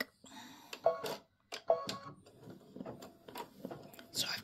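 An embroidery machine stitches a bunny's cotton tail in pink thread for a freestanding lace Easter bunny, with close, irregular mechanical clicks and whirring bursts separated by short pauses.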